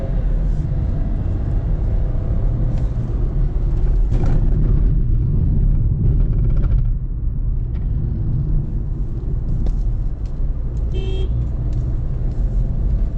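A Skoda Kushaq car drives along a road, with a continuous low rumble of engine and tyre noise holding steady throughout and a few faint passing sounds over it.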